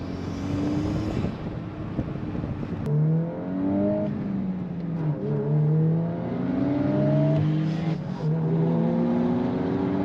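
A Volkswagen Golf R eighth generation accelerating hard, engine note rising through the gears with repeated upshifts, turbo and wind noise heard from inside the car, fairly loud, with no talking.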